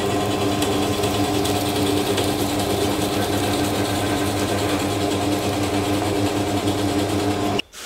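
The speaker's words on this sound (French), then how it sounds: "La perceuse à colonne." A drill press in a woodworking workshop runs with a steady, loud mechanical hum and whine that holds constant, then cuts off abruptly at the very end.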